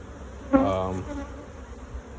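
Honey bees buzzing around beehives in an apiary of twelve hives during mite treatment, one loud close buzz that swells abruptly and fades over about half a second above a faint background hum.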